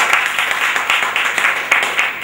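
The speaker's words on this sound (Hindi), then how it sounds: "जोरदार तालियां।" A network marketing seminar crowd breaks into loud applause, a dense, even roar of clapping hands close by that carries through the whole short stretch.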